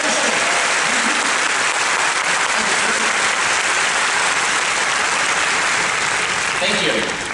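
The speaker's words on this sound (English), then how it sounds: "So, round of applause for Daniel, Joseph" Sustained audience applause at a Haunted Mansion 50th anniversary presentation at D23 Expo 2019, a dense, steady roar of clapping filling the room throughout, fading slightly at the end.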